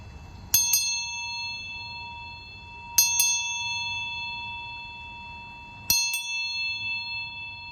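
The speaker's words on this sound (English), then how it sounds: "I'm just going to cleanse with the bell." Small bell struck three times for energy cleansing, each a bright double strike ringing out clearly alone with a long sustained tone.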